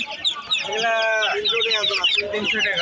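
Chickens clucking and calling in pairs for sale at a busy rural livestock market in northern Bangladesh, a steady chorus of close cackles with people talking over it.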